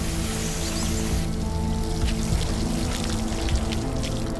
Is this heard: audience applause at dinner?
no